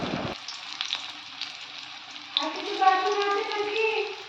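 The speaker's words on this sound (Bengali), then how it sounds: "এই দেখতে পাচ্ছেন একটা একটা করে আমি হিমচের বড়াগুলো দিয়ে দিচ্ছি" Himcha greens fritters lowered into hot oil one by one, a soft hiss after the first drop, then a fuller bubbling sizzle that swells as more fritters go in, close by with no talking.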